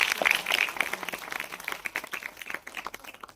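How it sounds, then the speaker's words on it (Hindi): An audience at a school awards ceremony claps at moderate volume, scattered hand claps that gradually thin out and fade toward the end. "एक जोरदार तालियां बनती हैं उन बच्चों के लिए"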